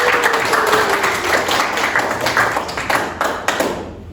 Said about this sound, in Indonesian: Sekali lagi beri tepuk tangan untuk kelompok 1.